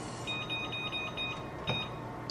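A kitchen timer set for ten minutes gives a quick run of faint, evenly spaced electronic beeps, then one more beep a moment later, over quiet room tone.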